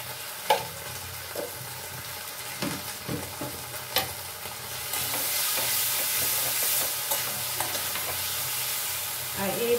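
A paste of cumin, ginger and chilli fries in a pan with a close hiss and clinks of stirring, the sizzle swelling louder and steadier partway through.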